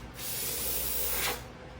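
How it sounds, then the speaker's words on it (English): Blower pushing alcohol ink across an encaustic painting gives a steady airy hiss for about a second and a half, rising and cutting off, fairly close and alone. "I'm going to come back with my blower and I'm going to start"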